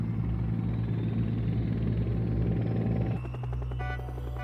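A helicopter's steady rotor thump and engine drone, loud and continuous, shifting to a slightly higher whine near the end.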